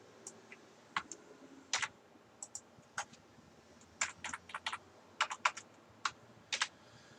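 Close computer keyboard typing while code is entered, with irregular bursts of sharp key clicks separated by short pauses and a low hum underneath.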